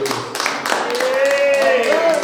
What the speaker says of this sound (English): Can we get another round of applause for that, please?